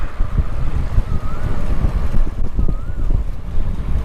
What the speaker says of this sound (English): I think the wind is too strong